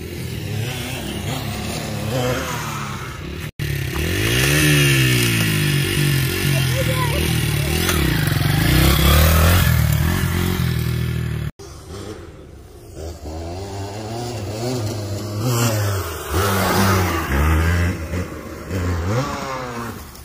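A loud stock Kawasaki KDX220 two-stroke dirt bike engine revs up and down continuously, rising and falling in pitch, with a brief cutoff in between.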